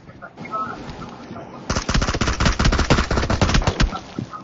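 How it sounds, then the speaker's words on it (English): Rapid bursts of automatic gunfire in a PUBG Mobile squad match, loud and sustained after a quieter start, with players talking in the background. "Oh, they're shooting at him."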